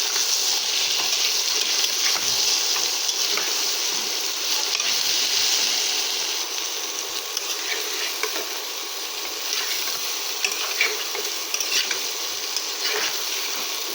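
Chana dal and soybean masala with turmeric and chili powder fries in a pan with a constant close sizzle, broken by soft scrapes of stirring and no voices.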